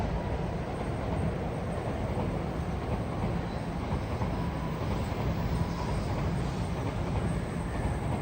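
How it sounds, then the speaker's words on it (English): Shinkansen bullet train passing through Tokyo, a loud, continuous rushing rumble of wheels and air sustained across the whole stretch, with no talking. "And here's another Shinkansen train."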